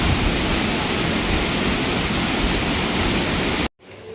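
Bhalugada waterfall in Uttarakhand's hills roars with loud, steady rushing water, a dense unbroken wash of sound that cuts off abruptly near the end, leaving a quieter background.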